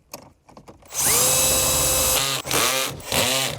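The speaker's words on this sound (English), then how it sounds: "I'll use my power tool just to ensure everything is lined up perfectly" A power drill tightening screws during a car speaker installation in a Honda CR-V whirs loudly for a sustained stretch, then two shorter bursts follow after a quiet start with faint handling noises.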